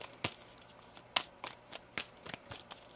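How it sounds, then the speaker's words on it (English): A deck of tarot cards is shuffled by hand, giving a quiet series of sharp riffling snaps and soft shuffles at irregular intervals, close by and alone. "One more shuffle here."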